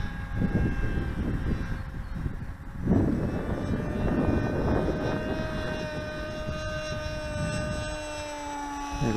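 Rambler-X FPV flying wing model aircraft making low passes on a windy day, its propeller motor a steady near whine with rising and falling tones and gusting wind noise throughout.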